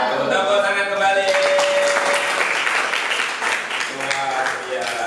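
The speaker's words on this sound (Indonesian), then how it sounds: "Tepuk tangan kembali" Applause from a classroom audience at a teacher-training session, steady broadband clapping across the whole stretch, with voices talking over it throughout.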